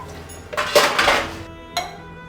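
Metal pots, pans and dishes clatter and clink as they are scrubbed and washed. A few sharp, close bursts of clanking stand out against a quiet background.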